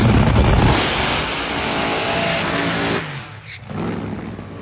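A drag racing car launches down the strip in a round 2 race against Doug Coletta's car, a loud, steady engine roar that drops briefly and then surges back.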